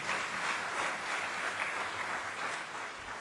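Applause from a seminar audience for a panel, continuous clapping across a hall, even and sustained with no speech over it.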